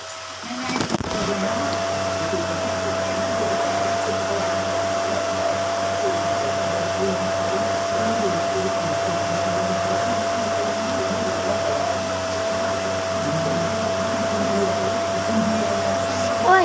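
An electric fan runs loudly and close by, giving a steady, unbroken whirring drone with a faint tonal hum throughout. Brief handling knocks come at the start.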